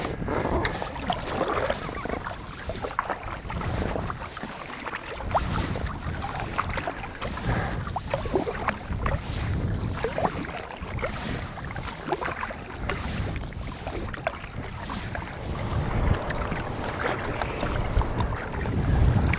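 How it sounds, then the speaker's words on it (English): An afternoon southwest wind blows while sea kayaking on Georgian Bay, a continuous loud rush with gusting buffets against the microphone and water sloshing around the kayak. "The wind has picked up as it usually does in the afternoon, and it's pretty much a southwest wind as expected."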